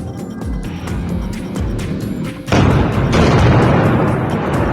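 Explosion from a US torpedo strike on an Iranian warship: a loud, sustained rumbling blast that swells abruptly partway through and stays heavy and broad to the end, with no talk over it.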